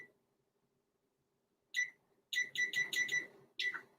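Beeps from a kitchen timer being set for seven minutes: one short electronic chirp, then a quick run of rapid button beeps and a final beep, sharp and close with no talk.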